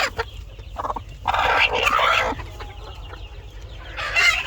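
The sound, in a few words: laying hen clucking and pecking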